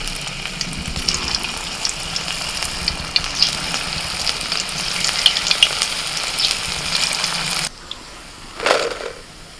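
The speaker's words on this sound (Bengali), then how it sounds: "আর কিছুটা ধনেপাতা দিয়ে ভাজছি" Vegetable pakoras with coriander leaves fry in hot oil, making a steady, close bubbling sizzle that cuts off abruptly near the end, followed by a brief clatter.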